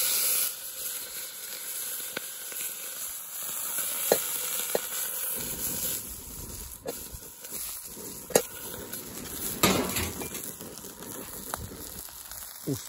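A burger patty fries on a hot griddle with water added to make steam, giving a steady hiss and sizzle with scattered sharp crackles and scraping clicks, moderately close and with no talk.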